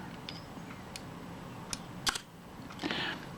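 A Retina IIa camera shutter fires with a brief, crisp mechanical click, faint and close, among a few small handling clicks in a quiet room.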